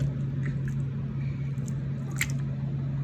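Jiggly homemade water slime squished and pressed by hand, giving soft wet squelches and faint crackly bursts over a steady low hum, close and quiet.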